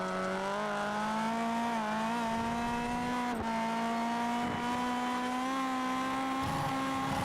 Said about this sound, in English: I'll have you listen to some rally cars going around the track.